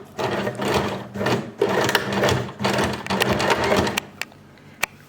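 Sewing machine running over an old zipper seam on a uniform jacket, in several bursts of rapid stitching with short pauses, near and loud, ending in a couple of sharp clicks.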